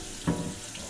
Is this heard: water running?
yes